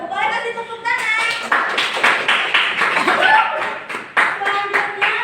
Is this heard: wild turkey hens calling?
no